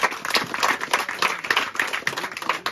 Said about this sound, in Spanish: Un aplauso para San Miguel Arcángel.